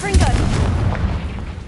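Confringo blasting curse explosion in the Hogwarts Legacy video game, a loud low boom with rumbling burst that quickly decays, mixed with a brief voice.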